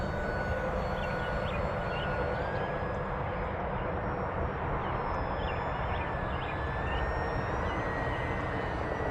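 A steady engine drone from an FMS Cessna 182 1.5m RC model airplane hangs overhead for the whole stretch, with a faint whine rising and falling above it and outdoor rumble underneath.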